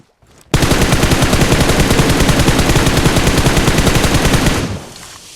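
Sustained automatic gunfire in the video game PUBG Mobile, one loud unbroken rapid burst lasting about four seconds, close and dominant, then cutting off abruptly.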